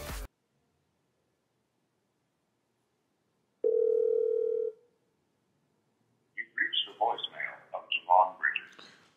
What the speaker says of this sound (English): Should I try to get Yvie on the phone?